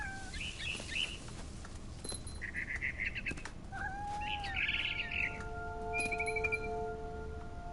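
Barn swallow chirping near its nest in the video game What Remains of Edith Finch: a series of bright, rapid twittering phrases and short calls, clear and fairly close over a quiet outdoor background.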